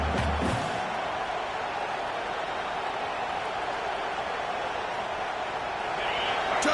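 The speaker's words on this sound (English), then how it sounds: "this home crowd is fired up and ready to make a difference today" Home crowd in a college football video game roars as a steady, dense wall of cheering noise, loud and continuous throughout, with a commentator talking over it.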